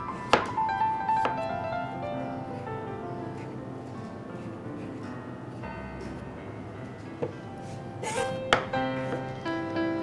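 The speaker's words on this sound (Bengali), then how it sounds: "কেটে আমি চারিদিকে আবার এটা রাউন্ড করে যে স্কিনটা আছে স্কিনটা ফেলে দিচ্ছি।" A knife trims and peels the skin from a carrot all the way around, with a few crisp scraping cuts and light thunks standing out faintly above steady tonal background sound.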